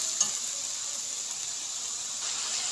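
Chicken pieces stir-fried in a pan with chopped tomato hiss with a constant bright sizzle, close and even, with a small tap of the spoon near the start.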